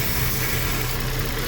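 A 2009 Land Rover LR2 (Freelander 2) engine with a clogged PCV valve and vacuum fault idles steadily up close, a low droning rumble carrying a thin constant whistle above it.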